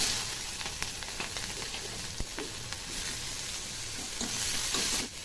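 Chopped onion with nigella seeds sizzles steadily in hot oil for a fish and ridge-gourd curry, a continuous hiss broken by a few sharp spatters and occasional stirring clicks, close and fairly loud with no talking.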